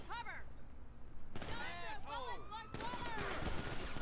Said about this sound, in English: they're just shooting him till he's dead